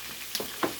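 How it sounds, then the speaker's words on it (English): Stuffed cabbage soup ingredients stir-fry in a pan, a faint steady sizzle with a couple of brief scraping stirs. "So we're going to stir fry that."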